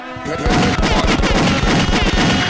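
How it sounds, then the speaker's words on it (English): Loud, rapid bursts of gunshot sound effects crackle in a dense, continuous volley, heavy and close, played as a podcast effect. "Give it some gunshots"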